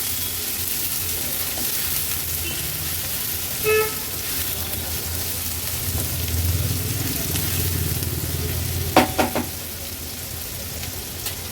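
Onion with crushed ginger, garlic and green chilli frying in oil on a low flame, a gentle continuous sizzle, with a brief tone and a couple of sharp clinks, plus faint distant traffic and a car horn in the background.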